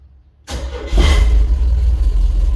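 A Ford F100 pickup engine turns over and catches with a loud low rumble, then runs roughly and unevenly at close range, sputtering as it struggles at idle.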